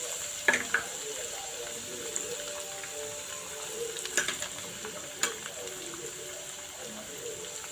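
Crushed garlic frying in hot oil with roasted gram, a steady soft sizzle broken by a few sharp scrapes and clinks of a spoon against the pan, no voices.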